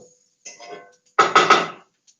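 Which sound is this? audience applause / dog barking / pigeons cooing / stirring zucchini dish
stirring zucchini dish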